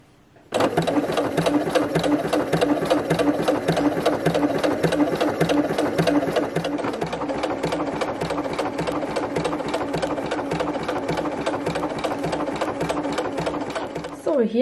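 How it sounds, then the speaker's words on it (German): A domestic sewing machine runs steadily, topstitching around a shirt neckline with an elastic back-and-forth stitch: a fast, even, close-up mechanical hum and rapid needle rhythm that continues almost unbroken for the whole stretch, with a short pause at the end. "hier habe ich jetzt meinen ganzen Halsausschnitt abgesteppt und hier könnt ihr nochmal die Naht erkennen"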